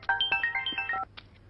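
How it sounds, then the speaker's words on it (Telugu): An incoming-call ringtone on a mobile phone plays a bright, rapid melodic sequence of electronic tones, close and clear, stopping abruptly after about a second with no talk over it. "ఒక్క నిమిషం, సిఏ సార్ ఫోన్ చేస్తున్నారు"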